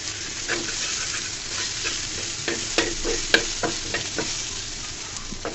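Onions frying in a pan, a steady close sizzle broken by the scrape and clatter of a spoon stirring them.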